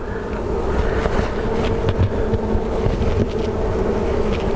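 Honeybees buzz in a dense, continuous drone close by while a large hive is opened for a varroa mite check, loud throughout with no talking.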